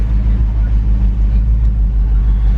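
A 2021 Jeep Wrangler Rubicon 392 with its V8 HEMI engine rumbles steadily up close, a deep, loud, even idle-to-rev drone held throughout.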